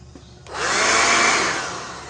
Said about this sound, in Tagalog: Ito pala yung vacuum.